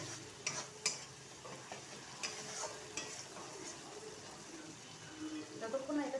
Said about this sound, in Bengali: যতক্ষণ না এটা কষিয়ে তেল ছাড়ছে ততক্ষণ পর্যন্ত এটাকে নেড়ে যেতে হবে